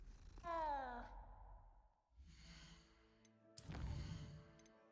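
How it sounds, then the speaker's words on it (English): A cat in the Hogwarts Legacy video game gives a drawn-out, sigh-like meow near the start, followed by softer game ambience and a brighter burst of sound later on. "Kitty."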